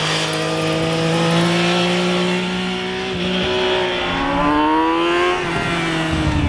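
Sport bikes such as a Suzuki GSX 650F and an Aprilia Tuono rev hard, their engine notes rising and falling through repeated loud, sustained pulls with no talking.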